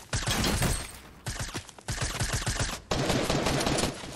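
Gunfire in the Fortnite battle royale game, several loud rapid bursts of shots close by, separated by short gaps and roughly sharp pauses, with no voices over it.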